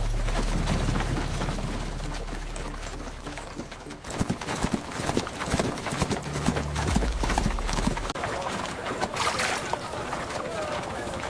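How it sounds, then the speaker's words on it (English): Several horses pulling a stagecoach clop along in a steady, overlapping rhythm of hoofbeats, fairly loud and continuous, with indistinct voices mixed in. "Transfer passengers to the backup coach. Fresh horses."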